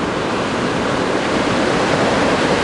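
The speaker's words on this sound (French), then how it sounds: "On a cette houle longue de secteur ouest-nord-ouest qui est en légère hausse et qui nous donne des vagues" Ocean surf from a long west-northwest swell breaking near Anglet, a steady loud wash of rushing water and roaring surf filling the scene with no voices.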